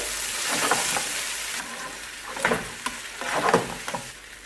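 Rice noodles sizzle in a hot pan as hot sauce and ketchup are stirred through for Singaporean rice noodles, with a constant frying hiss and several scraping stir strokes close by.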